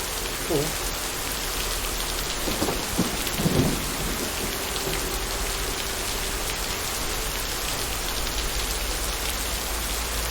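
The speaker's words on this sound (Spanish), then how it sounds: "Lo malo es que está lloviendo" Steady heavy rain pours down as a dense, continuous hiss throughout, with faint low rumbles and a few scattered knocks in the first half; no voices are heard.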